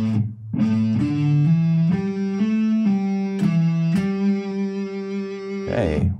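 Electric guitar in E standard tuning playing a distorted riff: a loud, steady line of changing notes, a brief pick scrape near the end, no talking.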